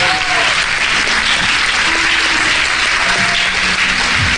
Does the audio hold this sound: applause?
yes